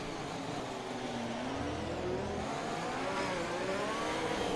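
F1 race cars battle through the streets of Monaco in a racing video game, their engines droning continuously with rising and falling revving whines layered over one another at moderate level.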